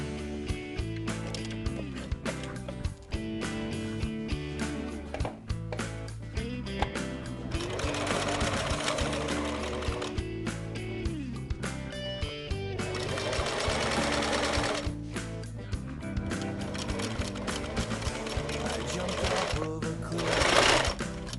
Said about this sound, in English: Then you're just going to do a straight stitch, like I said, around 3 of the sides